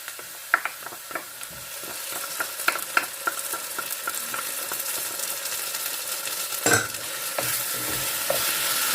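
Ginger garlic paste frying with onions in a pan for chicken biryani, giving a quiet continuous sizzle broken by small scrapes and clicks of stirring, near and low in level, with no voices.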